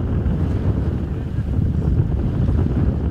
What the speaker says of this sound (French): Il y a 25 nœuds de vent de nord et donc on va tirer des bords